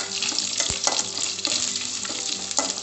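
Chana dal fries in oil in a pan for masala dosa, giving a steady, close crackling sizzle with occasional stirring scrapes throughout.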